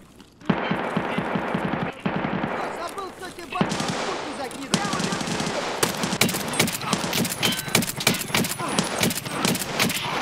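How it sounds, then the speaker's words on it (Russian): A mounted machine gun fires in a first-person shooter video game, rattling off dense bursts and rapid shots amid other in-game gunfire and clatter, loud and close throughout. "этот пулемет всегда жрет все пули."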